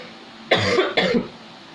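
Two quick, close coughs in a row, loud and throaty, from a person, with nothing else around them.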